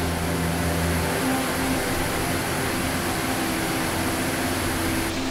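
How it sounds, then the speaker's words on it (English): The roar of a mountain torrent beside a forest fills the air as a dense, steady rush of white water, loud and unbroken throughout, with no talking. "I'm not sure if you can hear me because of the roar of the torrent behind me"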